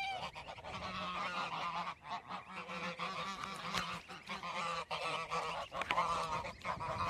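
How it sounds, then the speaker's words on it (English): Baby geese at a farm honk and peep nearby in a busy, overlapping chorus, with rapid calls continuing throughout at a fairly quiet level. "I wanted you to get baby geese ASMR because it's cute"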